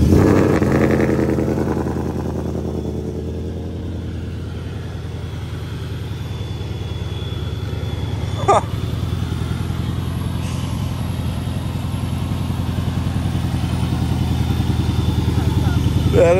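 A supercharged Ford Mustang Mach 1 engine drones loud and close as it revs, with a high supercharger whistle running over the rumble and people talking over it.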